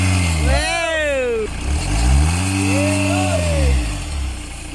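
A 2009 Hyundai Santa Fe, back running after a repair, revs hard in repeated rising and falling sweeps, loud and close, while excited voices cheer over it.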